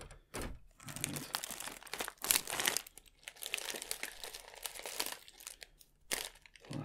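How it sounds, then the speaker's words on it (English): A plastic bag holding Warhammer model stands crinkles and rustles as it is handled, giving soft, close, irregular crackling that continues throughout with brief pauses. "plastic bag of stands, which is opened"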